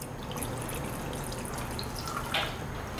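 Cold water poured into a gelatin mix gives a continuous close trickling and dripping splash, with a brighter splatter near the end.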